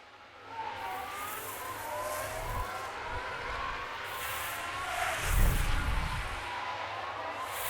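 Race cars in F1 Manager 2022 at Bahrain, heard as a steady engine roar with higher whining passes and a swelling rush as cars close in and overtake, all at moderate loudness.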